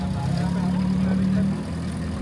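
A vintage Citroën Traction pulling away from a classic car gathering in Mantes-la-Jolie, its low engine hum steady at first and then fading as it moves off, with outdoor background noise.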